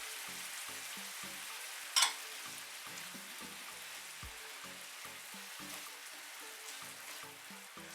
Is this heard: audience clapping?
no